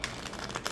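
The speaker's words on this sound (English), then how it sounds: "Okay, so for the riffle shuffling, it's not bad." Tarot cards in a sticky-finished deck being riffle shuffled, a quick run of close, soft flutters and clicks, no talking.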